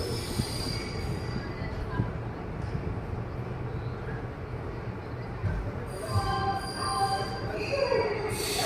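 A small passenger train runs from Pollachi to Coimbatore, its wheels rumbling and rattling on the rails with high metallic squeals rising toward the end, heard from on board at moderate level.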